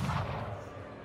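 An aimed shot in the video game Mordheim: City of the Damned booms once at the start and then rumbles and decays over about a second, a fairly faint game gunshot with no voices.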